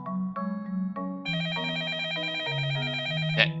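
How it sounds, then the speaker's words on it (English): A telephone rings inside a house during a snowstorm in the video game Up All Night, with a few electronic tones followed by a sustained warbling ring, loud and close. "The phone!"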